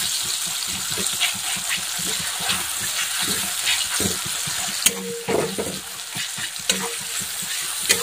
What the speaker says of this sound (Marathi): दोन ते 3 मिनिटं छान असा कांदा लालसर रंग येईपर्यंत छान तळून घ्यायचा आहे.